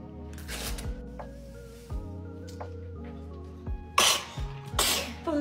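A child sneezes a couple of times in a quiet home while a parent gets the child ready for special needs preschool, with two sharp bursts near the end over a soft, steady background.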